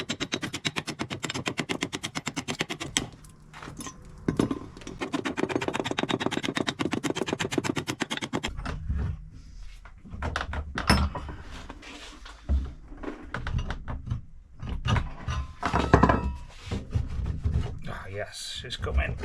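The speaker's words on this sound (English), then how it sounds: "take it to the vise and just try and knock it off" Lead casting stuck in a mould being hammered loose in a vise, heard as a long run of sharp, rapid metallic knocks and clatters, loud and close, with brief pauses between bursts of striking.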